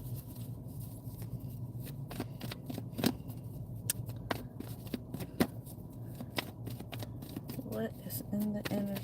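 Tarot cards are shuffled, tapped and squared into a neat stack, producing repeated soft flicks and light scrapes close by, with a voice speaking over them.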